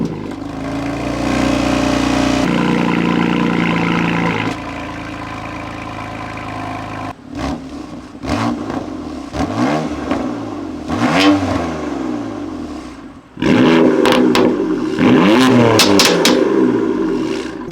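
A BMW M car fitted with M Performance exhaust and intakes revs repeatedly, sharp throttle blips rising and falling over a steady rumbling idle, loud and close with no talking.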